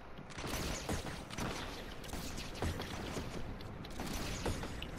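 Gunfire in the video game Fortnite, fairly faint rapid shots and mechanical clatter repeating in irregular bursts over a busy background.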